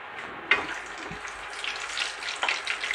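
Bay leaves and a cinnamon stick drop into hot oil while cooking Maharaja chicken, giving a steady close sizzle and frying hiss with a couple of sharper crackles, and no talking.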